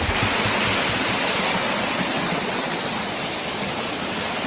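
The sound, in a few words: waterfall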